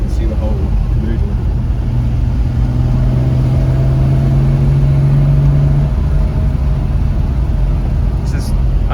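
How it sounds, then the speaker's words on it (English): A Lancia Flaminia at the Goodwood Revival, its engine revving in a loud continuous mid-range drone from inside the car, with a rising tone held for a few seconds before easing back. "I love revving this car."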